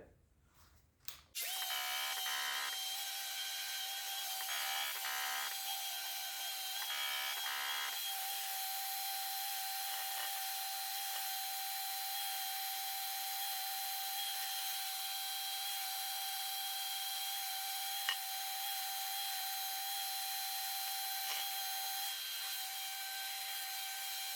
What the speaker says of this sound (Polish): Szlifujemy, za chwilkę się tam widzimy.